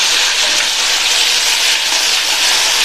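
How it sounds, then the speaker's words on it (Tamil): Chopped tomatoes with a few garlic cloves frying in hot oil for a chutney, giving a steady, dense sizzle and hiss that holds evenly throughout, close and fairly loud with no voices. "இந்த தக்காளி நல்லா எண்ணெயிலேயே நல்லா வதங்கி வரட்டும்"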